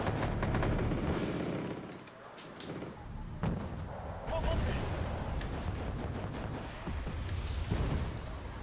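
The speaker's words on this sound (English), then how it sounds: "Put off another barrage on those jeeps." In the video game Wargame AirLand Battle, an artillery barrage pounds jeeps, heard as dense booming, rumbling blasts that ease briefly and then resume heavily, with a voice faintly present.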